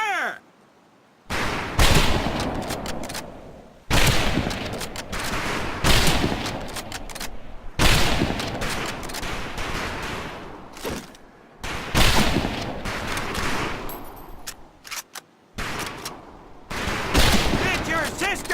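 Rifle volley on a firing range in Medal of Honor: Pacific Assault: loud, sharp shots in irregular bursts separated by short silences, with a commanding voice calling out over the range.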